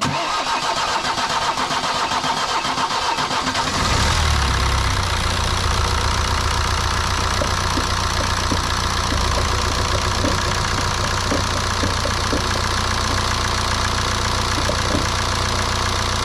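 A BMW N47 diesel engine, just repaired after a broken timing chain, cranks and catches around four seconds in, then settles into a steady, loud idle with a rough, knocking clatter.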